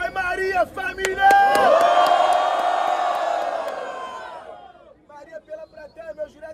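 Crowd at a Brazilian rap battle, Batalha do Coliseu, bursts into loud cheering and whooping that swells, then fades. An MC's voice comes before and after the burst.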